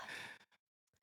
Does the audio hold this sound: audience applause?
no